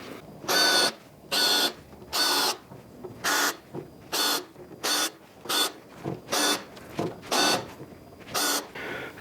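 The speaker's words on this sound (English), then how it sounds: "And now we're going to countersink." A power drill countersinks a hole while building the fence for a Swap Saw. The bit whirs in about a dozen short, even bursts separated by brief pauses, close and clear with no talking.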